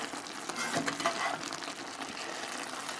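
A skillet of smoked beef sausage and tender cooked vegetables bubbles and sizzles softly in its juices, a faint, steady crackling with brief louder pops.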